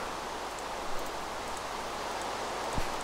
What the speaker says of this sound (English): I've got to be quick about it, because it's raining.